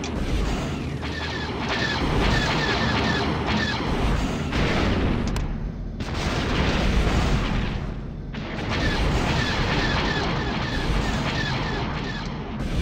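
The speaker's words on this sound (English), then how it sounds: "Launching missiles." Missiles launch in a video game set at an Imperial Research Center, a continuous roaring rumble with booming bursts and mechanical clatter that swells, dips briefly and returns loud over most of the stretch.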